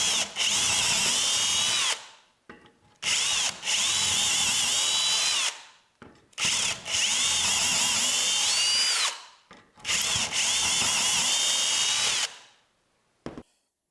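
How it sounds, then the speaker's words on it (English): A power drill whirs loudly through four long bursts, each a few seconds of steady high-pitched grinding into wood, separated by brief quiet gaps. "Now I'm ready to drill my holes."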